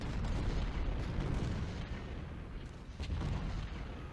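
Artillery fire in Ultimate General: Civil War, with dull booms and cracks over a dense, rumbling battlefield din, a few sharper reports standing out.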